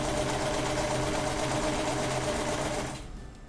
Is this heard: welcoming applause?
no